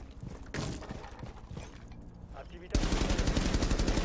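Rapid bursts of gunfire in Rainbow Six Siege, sparse at first and then a dense, loud barrage in the final second or so, with an Italian-speaking voice faintly underneath.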